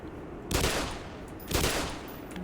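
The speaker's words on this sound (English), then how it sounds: "Try shooting it?" Two gunshots fired in the Black Mesa video game, about a second apart, each a loud broadband burst with a short decaying tail, heard alone with no talk.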